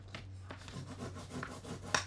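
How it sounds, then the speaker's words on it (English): A bone folder rubs firmly along folded designer paper cardstock, making quiet, repeated scraping strokes up close. A sharper tap or snap comes near the end, with a low steady hum underneath. "use our bone folder to get a good burnish"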